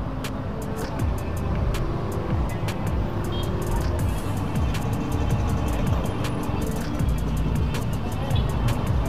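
Road traffic on a jammed road near Cikalong, heard from a motorcycle: a dense rumble of engines and idling vehicles up close, with scattered clicks and sharp ticks over the steady low drone.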